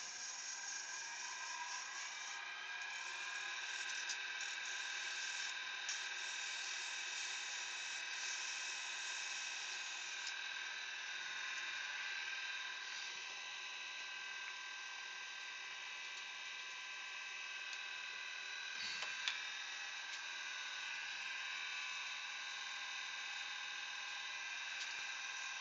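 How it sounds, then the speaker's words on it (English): A wooden cocktail stick holder being sanded with a power tool, a steady high whining drone that holds for the whole stretch and dips slightly near the end, fairly quiet and with no talking. "Do a wee bit of sand into this and then"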